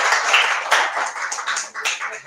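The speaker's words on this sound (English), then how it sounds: "would you please give them a big round of applause" An audience at a triathlon press conference in Bermuda gives athletes a brief round of applause, a dense patter of many hands clapping steadily at moderate loudness, with no talk over it.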